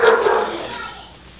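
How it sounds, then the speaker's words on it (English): In a home kitchen where bread dough is being made, a dog gives a single short, close bark that quickly fades into the quiet room. "My dog's going crazy."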